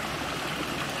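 A babbling stream at the Oshino Hakkai spring ponds in Yamanashi: a steady, soft wash of flowing water, continuous and even, with no voices.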